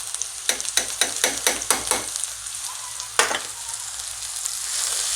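Spices with chili powder, coriander and turmeric are stir-fried for a beef curry, bringing a quick run of about seven rhythmic spatula scrapes over a steady sizzle, then one more stroke after a pause.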